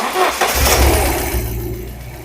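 A Ford Sierra Cosworth 3-door, whose idle valve had been sticking, fires up after a brief starter crank, catching with a loud burst and settling into a rough, throaty idle close by.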